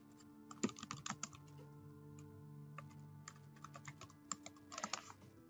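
Quiet typing on a computer keyboard in an office case-management task, with irregular bursts of soft key clicks and short pauses, close but faint.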